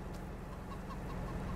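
Chickens cluck softly in Farming Simulator 22, a few faint calls set against a steady, dense noise bed that runs throughout.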